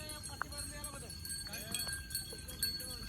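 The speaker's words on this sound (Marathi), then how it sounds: "आता कवऱ्या गाई म्हशी चालल्या बघा" Cow and buffalo hooves clop along at a walking pace amid a busy outdoor scene, with a voice speaking over the steady background bustle.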